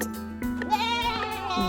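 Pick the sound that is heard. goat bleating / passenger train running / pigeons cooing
goat bleating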